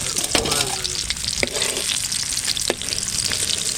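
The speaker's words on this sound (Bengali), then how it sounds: "এরকম একদম লাল লাল করে ভাজা হয়ে গেছে" Pomfret fish frying in a pan sizzles with a steady, dense crackle and occasional sharp spits, close and fairly loud, with no talking.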